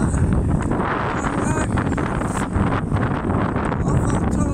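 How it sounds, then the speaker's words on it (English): Heavy wind buffeting a microphone, a continuous low rumbling roar with gusty fluctuations throughout. "it's so fucking windy"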